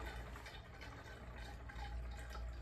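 Water trickles and bubbles steadily up through a homemade two-straw fountain device, a faint continuous liquid gurgle heard close up with no talking.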